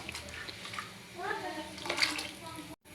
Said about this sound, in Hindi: अब हम डालेंगे भीगे हुए चावल जो हमने 1 घंटे भिगो के रखे थे